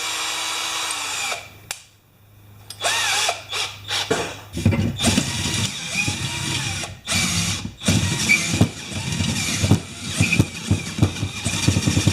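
Power drill boring into wood, whining in repeated bursts with brief stops and restarts, close and loud, no talking.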